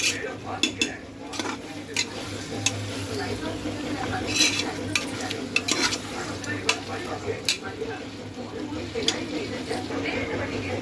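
Meat and gravy for home-style biryani sauté in a pot with a low, fairly faint sizzle, broken by intermittent clinks and scrapes of a ladle against the metal, and a voice heard at times.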